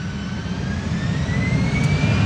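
An Air Arabia Morocco jet bound for Nador departs Amsterdam Schiphol with a loud, steady engine roar and a rising whine, close and continuous, with no talk.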